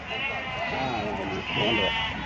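Goats bleat loudly and repeatedly, close by, in wavering overlapping cries with a busy crowd murmur underneath at the Gudur livestock market.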